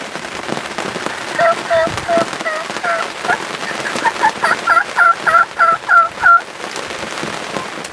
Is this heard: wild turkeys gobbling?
yes